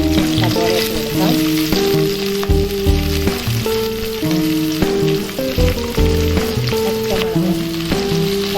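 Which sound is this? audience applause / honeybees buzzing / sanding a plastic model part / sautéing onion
sautéing onion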